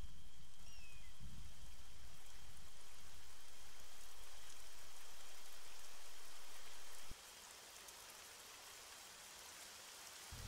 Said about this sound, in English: There you go, now it's raining.